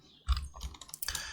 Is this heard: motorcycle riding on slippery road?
no